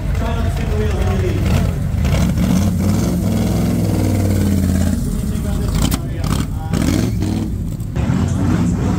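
A 500-horsepower AC Cobra at the Oxford car show 2022 roars as it accelerates away, its loud engine rising under continuous talk nearby.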